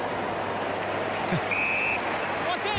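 A packed football stadium crowd at a 2009 AFL match between Melbourne and Geelong applauds in a steady, dense wash of clapping and cheering, with a brief high whistle-like tone cutting through midway.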